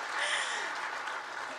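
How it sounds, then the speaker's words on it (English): Convention audience clapping in a hall, a steady wash of many hands throughout with a voice briefly audible within it. "Everybody clap."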